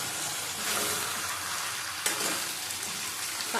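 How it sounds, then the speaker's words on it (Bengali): Shrimp curry with ridge gourd, potato, pumpkin and turmeric sautéing in a pan, a dense continuous sizzle with a single sharp stir or knock midway, close and loud with no talking. "ভালো করে কষিয়ে নেব"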